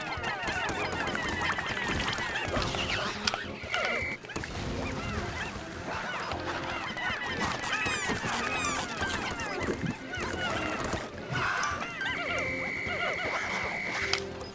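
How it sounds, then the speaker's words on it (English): Squawking, honking calls from a baby bird creature in the video game Pikmin 4 repeat in bursts over busy game sound effects, with chirpy tonal cries scattered throughout. "Why is there a baby bird now?"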